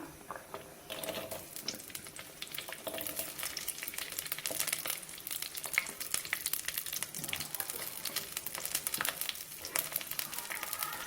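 Onions sautéing in a pan while making village-style sambar, a continuous crackling sizzle with occasional stirring scrapes, steady and close throughout with no talking.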